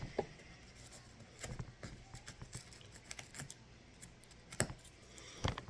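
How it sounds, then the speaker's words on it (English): An X-Acto knife slices through cardboard in a quiet, close series of irregular scratchy cuts and small scraping ticks, with a few sharper snaps standing out near the end. "Just maintain steady pressure when you're going across with that X-Acto knife"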